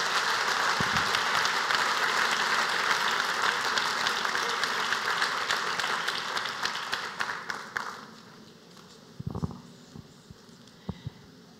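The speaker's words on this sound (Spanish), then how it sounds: "Aplaudamos al secreto de su eternidad." A church congregation applauding, with dense sustained clapping that thins out and fades after about eight seconds, leaving scattered claps and small noises.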